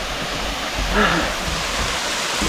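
A thin waterfall in the Naeyeonsan valley near Bogyeongsa pours with a steady, even rushing hiss, continuous and fairly close, with a faint brief voice-like tone partway through.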